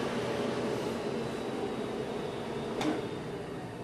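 An Epson 9900 large-format printer loads paper by itself with a steady mechanical hum and whir, broken by one sharp click near the end.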